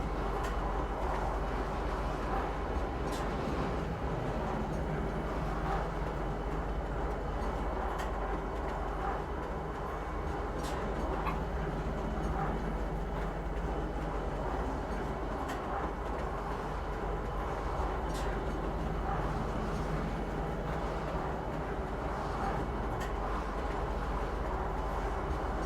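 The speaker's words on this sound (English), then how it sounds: "Please watch your step when disembarking the train." Steady rumble of a train ride arriving at Kisa Spaceport in the video game Star Citizen, a continuous rolling rail drone with faint clicks throughout, no talk.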